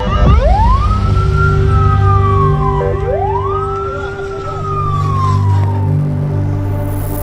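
An ambulance siren in Gaza wails loud and close, sweeping up and down twice over a steady engine and traffic rumble.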